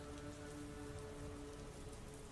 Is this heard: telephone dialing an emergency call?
no